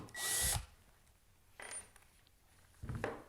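A power drill backs a screw out of wood in three short bursts, the first longest and loudest, with quiet pauses between, close and alone with no talking.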